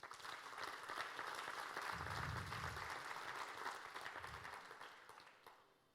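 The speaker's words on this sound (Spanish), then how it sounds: "Denle fuerte el aplauso al Señor." A congregation claps for the Lord in a steady, fairly distant wash of applause, with a couple of low thumps partway through, before it tapers off near the end.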